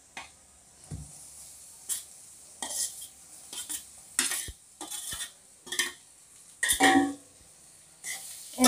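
Water chestnut peels are stirred with whole red chillies, asafoetida and spices in a pan. A spoon scrapes and clinks against the metal in irregular bursts over quiet gaps, with only a faint sizzle.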